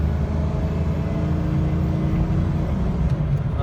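A truck engine runs steadily at idle, a continuous low rumble with a faint whirring hum on top, close by and unchanging.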